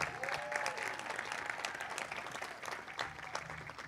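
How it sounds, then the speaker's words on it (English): An audience at a film prize announcement applauds the year's filmmakers in a steady, moderately distant round of clapping, with faint voices and a few whoops rising through it. "a quick round of applause for all the filmmakers who just made a project this year"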